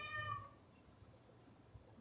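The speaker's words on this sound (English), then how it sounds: "Why is this cat keep meowing?" A cat lets out a single clear, fairly close meow at the start, followed by quiet room background with no further calls.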